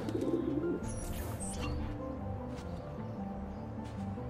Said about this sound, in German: Komm her, du olle Taube.